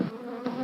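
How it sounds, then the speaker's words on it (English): Agitated honey bees buzz at an opened hive, a loud, close, continuous droning hum that swells briefly midway, no voices. "she pumps a smoker to calm the agitated bees."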